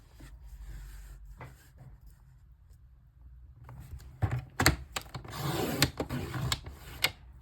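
Paper for card making is cut on a craft desk, giving soft rasping and scraping strokes that build into denser, louder cutting and sliding sounds toward the end, with no talking.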